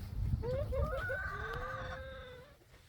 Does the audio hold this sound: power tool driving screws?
no